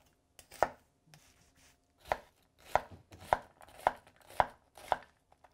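Six crisp knife strikes land on a cutting board at a steady, slightly uneven pace as onions are chopped with a new handcrafted Japanese knife, each chop close and sharp, with no talk.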